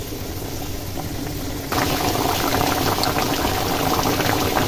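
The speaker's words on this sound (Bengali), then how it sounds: "তো এটা এরকম করে টকবক করে ফুটছে" Beef kosha curry with whole spices simmers on medium-low heat, giving a steady dense bubbling and gurgling close up, growing louder partway through.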